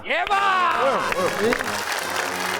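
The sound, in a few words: audience applause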